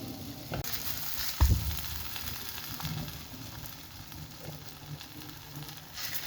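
Makki roti cooking in ghee on a hot griddle, a steady close sizzle and crackle running throughout with a brief louder thump and spatter early on; no talking.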